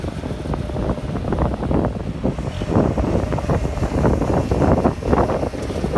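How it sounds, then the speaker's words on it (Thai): Strong wind gusts across the microphone outdoors, a steady loud rumbling buffet with irregular surges that carries on for several seconds and drowns out other sound. "ลมแรงครับ"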